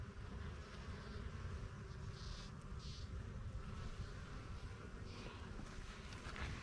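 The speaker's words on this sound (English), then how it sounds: "look at how amazing these bees are" Bees buzzing around plants in a home garden, a soft continuous drone close by, faint and low over quiet outdoor background.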